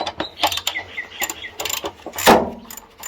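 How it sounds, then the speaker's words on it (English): A ratchet clicks in short, close bursts while a motor bolt is undone during a whiteware appliance teardown, with light metallic rattles between the strokes. "All we have to do pretty much is take off that bolt down there"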